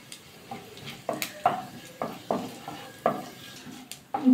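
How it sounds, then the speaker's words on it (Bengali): Cumin seeds and two dried red chillies fried in hot mustard oil in a kadai, stirred with a spoon that gives several sharp clinks and scrapes against the pan over a faint sizzle. "একটু নাড়াচাড়া করে নেব।"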